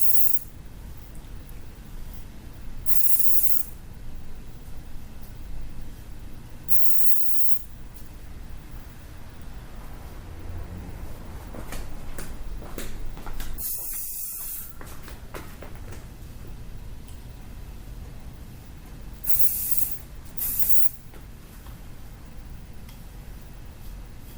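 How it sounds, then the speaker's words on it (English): Hairspray sprayed onto styled hair in a salon, several short bright hissing bursts spaced apart over a steady background hum. "we like to get in there with hairspray like that"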